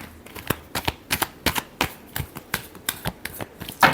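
Tarot cards are shuffled by hand in a quick series of crisp, papery riffles and slaps, close and clear, in an irregular rhythm.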